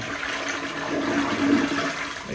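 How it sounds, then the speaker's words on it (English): A newly installed push-button toilet flushes powerfully, a loud rushing gush of water swirling and draining close by, sustained for a couple of seconds with no talk over it. "Powerful flush, like it says."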